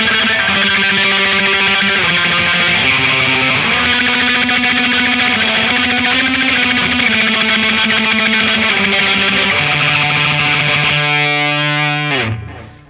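Distorted electric guitar tremolo-picks a sustained melodic line, soft dark delay repeats trailing each note and a light reverb wash, ending in a fading ring.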